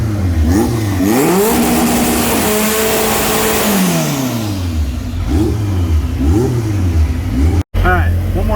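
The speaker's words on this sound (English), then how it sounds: "I'm gonna run out here and do a little two-step check, make sure she's ready." A drag race car engine revs repeatedly on a two-step launch check, hot and close, rising and falling in sharp pulls with a brief cut near the end and voices under it.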